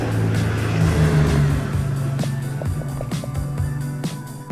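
A group of motorcycles riding past on a scenic road, engines droning loudly up close at first, then a series of quick passing whooshes as the bikes go by one after another.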